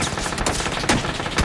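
Rapid gunfire in PUBG, several close, sharp shots crack out in an irregular burst over a noisy background.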